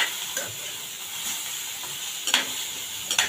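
Garlic and ginger sauté in oil for kala chana masala. A quiet, even sizzle runs throughout, broken by a few brief scraping stirs near the end.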